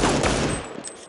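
A small pistol firing in a Counter-Strike-style shooter game, a single loud sharp shot at the start followed by a decaying tail.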